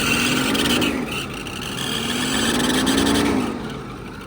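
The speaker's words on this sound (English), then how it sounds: "that might just be an exhaust leak." A mid-pitched engine idles close by with a ticking, puffing exhaust note from an exhaust leak, rising briefly as if revved, then settling again.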